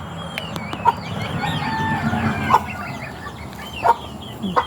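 Chickens clucking and crowing while being fed, a busy cluster of close clucks and squawks with a few sharper calls and sporadic pecking knocks over a low farmyard background, without speech.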